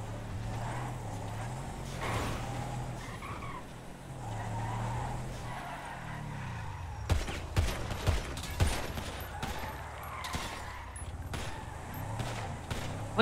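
Gunfire from a GTA 5 roleplay game breaks out in a quick burst of sharp shots over the steady hum and tire noise of cars, following a stretch of engine drone.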